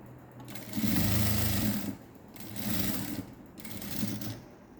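A sewing machine stitches old silk saree fabric into a skirt, running in three close, loud bursts of rapid mechanical whirring separated by short pauses.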